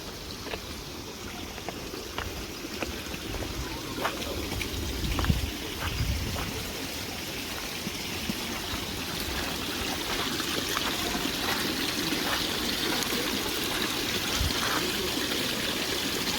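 Clear spring water from Mount Fuji runs steadily at a shrine, a continuous close trickle and babble with small splashes throughout, no voices over it.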